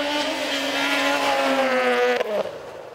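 Two 170-horsepower race cars roar around a 2.5-kilometre icy ring track at a Russian championship event, engines holding a loud, steady whine that bends in pitch as they pass, then fades slightly near the end.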